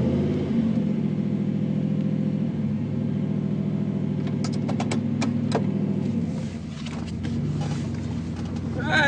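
A Ford Flareside pickup truck driving, its engine giving a steady, close, low rumble that swells and eases slightly, with a few sharp clicks and rattles partway through.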